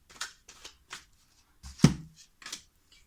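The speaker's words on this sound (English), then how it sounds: "I'm gonna obviously shuffle again" A deck of tarot cards shuffled by hand in a series of quick, close papery bursts with short pauses between them, heard alone.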